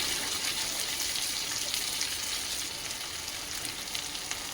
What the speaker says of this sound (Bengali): আদা বাটা দিয়ে এখন মশলাটাকে নাড়াচাড়া করব